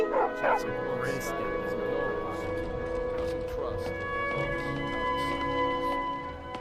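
Dog barking in the Skyrim VR game, a few sharp barks early on over a busy bed of ambient game sound and background voices.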